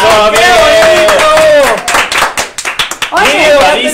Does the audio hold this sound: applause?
yes